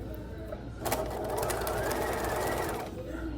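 A sewing machine runs in a steady burst of about two seconds to reinforce a stitch in loosely woven fabric, fairly close and clear, with light room noise before and after.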